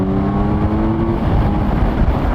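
Loud, close engine roar of a 2020 Kawasaki Z900 motorcycle pulling hard in sixth gear on the road, a steady rising drone with wind rush.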